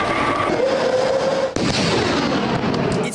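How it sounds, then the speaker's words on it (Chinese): Mortar and artillery fire from a shelling exchange between Ukrainian soldiers and Russian mortar crews on village outskirts in Donetsk, Ukraine: loud, dense booming and rumbling with a sharp burst midway, no voices. "顿内茨克乌克兰士兵和俄军迫击炮对决，从村庄外围多点猛轰"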